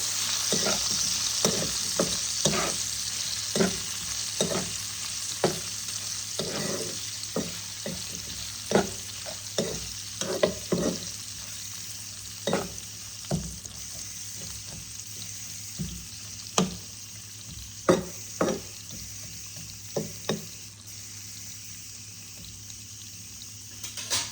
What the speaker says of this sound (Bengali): একসাথে ভালো করে কষাবো।